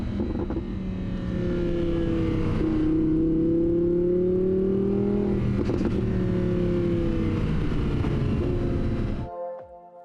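An Audi R8 Spyder convertible's engine, heard with the rear window lowered: a sustained, loud, close drone that rises in pitch as the car accelerates and swells to a strong roar, then cuts off abruptly near the end.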